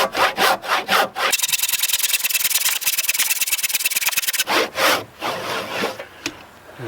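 Hand saw cutting timber for a garden room cabin: rapid, loud rhythmic rasping strokes, a long continuous stretch of sawing between shorter bursts, with no talking.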